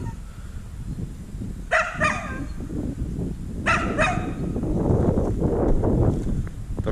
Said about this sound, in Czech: Tu majú psíka.